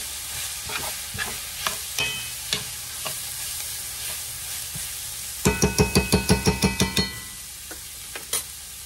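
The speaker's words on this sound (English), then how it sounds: "We're going to stir in our tomato sauce, about eight ounces" Tomato sauce being stirred into cooked beef and vegetables in a pan over medium heat for picadillo, with a steady sizzle, scattered spoon scrapes, and a quick run of about ten rhythmic clacks against the pan near the end, with no talking.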